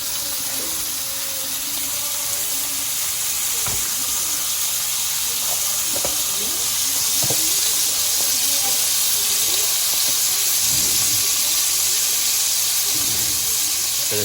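Steak sizzling in an iron skillet while being basted with butter, a loud continuous hiss with intermittent spatters and pops throughout.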